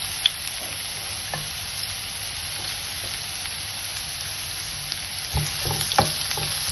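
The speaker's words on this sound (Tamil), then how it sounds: "கொஞ்சம் ஃப்ரை ஆகட்டும் ஒரு three to four minutes golden brown கலரில் ஆகிற வரைக்கும் ஃப்ரை பண்ணலாம்" Two large onions frying in a spoonful of oil in a pan give a steady close sizzle, with occasional louder pops and utensil knocks near the end.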